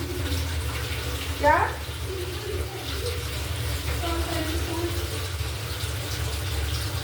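Water running steadily with a pump motor on, a continuous gushing flow with a low motor hum beneath, while a person briefly speaks over it.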